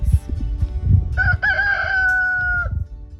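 Backyard farm chickens cluck and shuffle close by before a rooster lets out one loud, drawn-out crow that rises and holds, then the hens carry on clucking.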